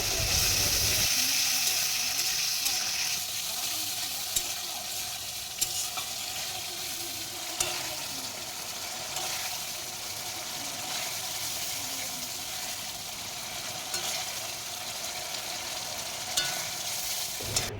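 A Bengali spice mix with tomato sauce for potol dorma fries in a pan, giving a steady sizzle with occasional scraping stir strokes, close and continuous with no talking.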